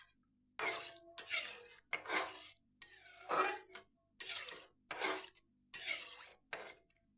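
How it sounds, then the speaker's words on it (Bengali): Rice flour halwa with dry fruits is stirred in a pan in a village-style home kitchen, about eight scraping strokes in a steady rhythm with short gaps between them. The scrapes are close and fairly quiet, and no voice is heard. "এভাবে অনবরত লাড়তি হবে নাহলে পড়ার নিচেই ধরে যাবে"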